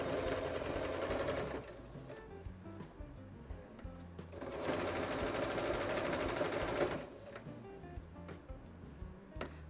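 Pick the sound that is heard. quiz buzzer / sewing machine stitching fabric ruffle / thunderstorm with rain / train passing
sewing machine stitching fabric ruffle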